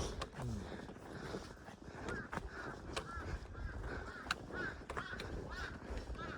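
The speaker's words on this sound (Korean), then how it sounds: "어, 까마귀가 근처에 있어." A crow caws close by on a winter trail on Hallasan mountain, several short calls scattered over a steady outdoor background of wind and footsteps.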